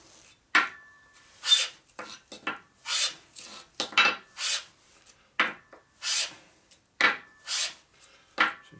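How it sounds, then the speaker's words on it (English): Repeated rasping strokes of sanding on a 1946 Harley knucklehead engine part worked in an X pattern, about a dozen close, even scrapes with short pauses between them. "It's like sanding in an X pattern"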